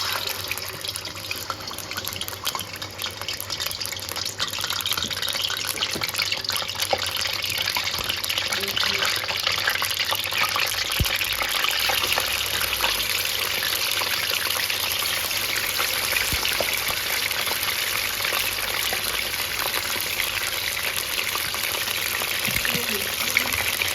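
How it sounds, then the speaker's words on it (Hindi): Pieces of Balochi chicken tikka fry in hot oil, giving a steady, dense crackling sizzle that runs unbroken for the whole stretch, fairly loud and close. "तो ऑयल जो है गरम हो गया। अब मैं इसमें एक एक करके जो है चिकन के पीस डालूंगी।"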